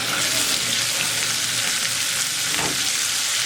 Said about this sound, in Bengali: এবারে আদা রসুনটাকে একটু ভেজে নিয়েছি